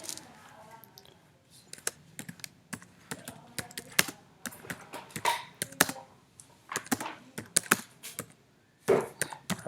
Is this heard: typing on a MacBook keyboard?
yes